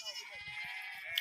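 Goats out with shepherds in a forest bleat in a short, thin cry over a steady outdoor hiss, with low rumbles of handling or movement close by.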